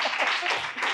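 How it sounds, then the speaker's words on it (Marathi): An audience claps at a Marathi-language literary event, a brief close patter of many hands that fills about a second. "मला वाटतं टाळ्या झाल्या पाहिजे त्याच्यासाठी"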